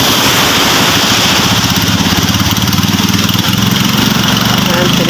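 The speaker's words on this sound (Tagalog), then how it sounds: "Tinetesting pa po ang makina." A small fishing boat engine being tested runs at a loud, rapid, buzzing chug, steady and close throughout, with a voice speaking over it.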